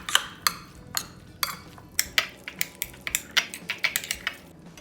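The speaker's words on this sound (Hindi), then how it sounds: "अभी इसको अच्छी से मैं मिक्स कर लेती हूँ" Spoon clinking and scraping in a bowl while kebab masala is stirred into a chicken and cheese filling for muttabaq, a rapid run of sharp, close ticks and taps with no talking.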